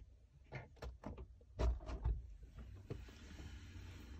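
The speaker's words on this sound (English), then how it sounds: "I open the door." A car door opens with a few soft clunks and a brief scrape, followed by a quiet low rumble inside a parked vehicle, close and moderate in level with no talk.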